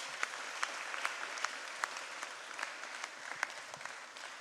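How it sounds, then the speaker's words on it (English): Applause from a school audience for students after a musical performance, a dense, steady wash of many hands clapping throughout, with occasional louder individual claps standing out. "So please, a huge round of applause for our students."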